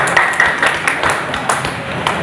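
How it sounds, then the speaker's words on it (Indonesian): Applause at a fundraising strategy seminar in a café, loud and close, with distinct individual hand claps rising and falling in a loose rhythm, and some voices mixed in. "tepuk tangan yang meriah"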